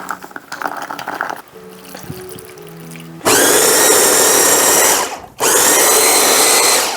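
A kitchen blender grinds garlic, ginger, pear, onion and anchovy fish sauce for kimchi. Quieter clatter comes first, then a loud, steady motor whir that stops briefly and starts again.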